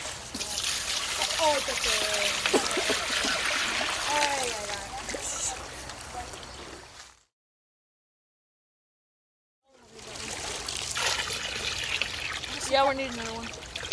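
Water is poured into a container during a sixth-grade streamflow exercise, a close splashing trickle broken by a few seconds of silence, then resuming, with children's voices talking over it.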